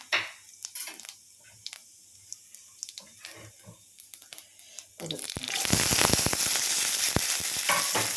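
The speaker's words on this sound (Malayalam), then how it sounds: "ഇതൊന്ന് ഇളക്കി കൊടുക്കണം, ഇതൊന്ന് മിക്സ് ചെയ്ത് കൊടുക്കണം. ഇതൊന്ന് വഴന്ന് വരട്ടെ." Onion, green chilli and curry leaves sizzle and fry in a pan while being stirred, soft scraping at first, then a loud, steady hiss of frying that carries to the end.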